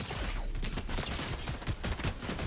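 Rapid bursts of gunfire in the video game Fortnite, dense repeated shots crackling close and loud throughout with no talking.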